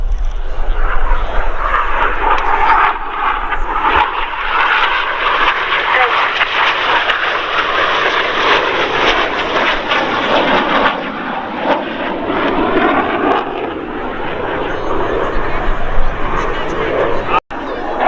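Red Arrows BAE Hawk T2 jets performing an airshow display at Old Buckenham, a loud sustained roar of jet engines as the formation flies past, with an announcer talking over it.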